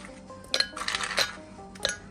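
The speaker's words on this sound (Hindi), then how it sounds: "और साथ ही में जो है वो इसमें जाएगा 4 आइस क्यूब्स" Ice cubes clatter into a blender jar for a Hindi-style ice cream milkshake. Three sharp, clinking knocks land separately over about two seconds at close range, with no speech.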